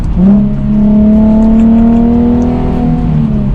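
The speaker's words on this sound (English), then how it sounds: "So you get active rev matching for this car. It sounds amazing, especially with an exhaust." A Toyota A90 Supra engine with rev matching holds a steady, loud revving drone that climbs slightly in pitch, then dips near the end, heard alone and up close.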